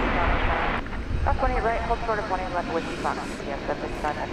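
A Dreamliner airliner sits at the top of runway 18 left at DFW Airport, its engines giving a steady loud roar beneath someone talking.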